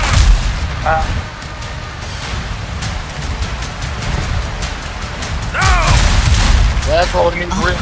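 Cannon fire in naval combat in the video game Windrose, with booming shots and bursts of impact noise mixed over a continuous dense battle soundscape at fairly loud level.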